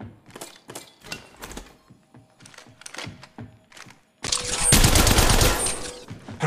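Rapid automatic gunfire in the Apex Legends Mobile video game: scattered bursts of shots give way to a dense, loud sustained volley near the end.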